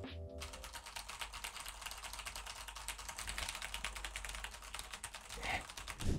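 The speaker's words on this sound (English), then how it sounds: "let me show you the sound of my keyboard" A computer keyboard is typed on steadily, a rapid run of fairly quiet, even key clicks with a few louder strokes near the end.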